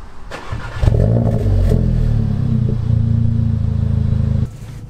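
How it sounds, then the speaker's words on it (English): A Seat Leon Cupra 300 engine cranks and fires, then settles into a steady idle with a couple of revs, loud and close with no talk. "Right then, let's start the engine, see what it sounds like."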